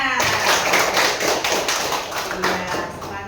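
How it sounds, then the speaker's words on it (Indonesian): A classroom of fifth-grade primary pupils claps together in a dense, steady burst lasting a few seconds, loud and close, with voices mixed into the clapping. "Tepuk tangannya."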